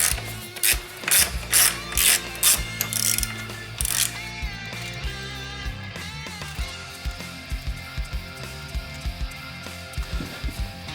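A ratchet wrench clicks in quick rhythmic bursts while removing two 12mm bolts on the turbo side of a car engine, close and crisp, followed by lighter clinks of metal and handling.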